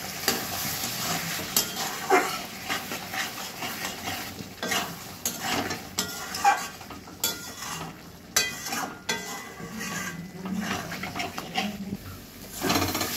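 Paneer stir-fries in a pan with ground coriander, chili powder, water and ghee, giving a steady sizzle broken by scraping spatula strokes and occasional clinks against the pan, close and continuous.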